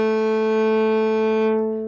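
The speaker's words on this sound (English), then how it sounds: "and the highest string sounds like this." A cello's highest string sounds one clear, steady bowed note for nearly two seconds before tapering off, heard solo and close.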